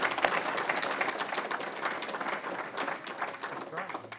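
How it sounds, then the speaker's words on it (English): Audience applause for Dr Kent Anderson, steady dense clapping from a group that holds for about four seconds at moderate volume, heard alone without talk over it. "So I'd like if everyone can please give Kent a warm clap of the hands."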